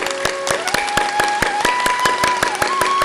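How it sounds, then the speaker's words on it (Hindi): Steady, vigorous hand clapping for acupressure, close and loud, with crisp claps about four per second over a sustained tone that slowly rises in pitch. "जोर से ताली बजाओ 2 मिनट સુધી"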